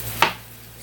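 One crisp knife chop through the end of a large onion on a cutting board, a single sharp close thud with a short tail over quiet kitchen hum.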